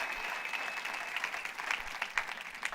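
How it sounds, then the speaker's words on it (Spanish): Steady applause from a church congregation fills the whole stretch, dense and continuous, heard from a little distance with a faint tone running underneath. "Dele un aplauso al Rey de la Gloria"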